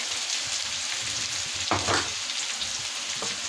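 Chopped onion and a couple of hot peppers hiss steadily in a pan, with one short scrape of stirring partway through, close-up and without talk.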